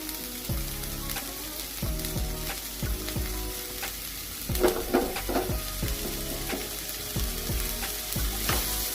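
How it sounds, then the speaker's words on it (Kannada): Hesaru kalu usli, a sprouted green gram stir-fry with plenty of onion, sizzles steadily in a pan after coriander is added, with repeated rhythmic scraping and clacking strokes as it is stirred, close and fairly loud. "ಕೊತ್ತಂಬರಿ ಹಾಕಿ ಚೆನ್ನಾಗಿ ಮಿಕ್ಸ್ ಮಾಡತ್ತೀನಿ ರೀ."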